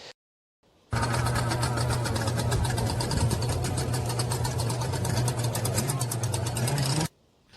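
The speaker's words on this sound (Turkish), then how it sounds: "Benzinle çalışanlar oldukça gürültülü. Burada küçük bir örnek." A petrol-engine motorized surfboard starts up abruptly and runs at a steady, loud, rapid buzzing drone for several seconds, then cuts off, with a brief pause before it.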